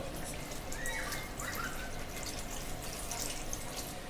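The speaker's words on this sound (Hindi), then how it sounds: "तो चलिए हम इसमें पानी डालते हैं थोड़ा सा।" Water pours steadily into a pot of spiced mutton nihari, a continuous splashing trickle lasting the whole stretch, close and moderately loud.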